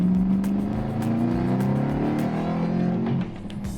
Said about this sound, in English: that supercharger sounds mean